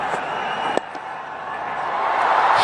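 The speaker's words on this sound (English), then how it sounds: "Big roar of excitement from the crowd." A cricket stadium crowd at the start of a match keeps up a steady, loud roar of excitement that swells toward the end, with a sharp crack near the beginning.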